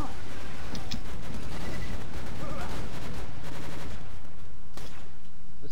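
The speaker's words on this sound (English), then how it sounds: "This full auto pistol is not accurate in any way." Rapid full-auto pistol fire from Borderlands 2 rattles in dense bursts, mixed with explosions and other game noise, while a player talks over the shooting.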